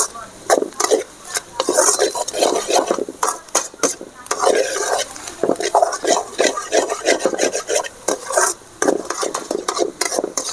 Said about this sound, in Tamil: காய்கறியை நல்லா வதக்கியாச்சு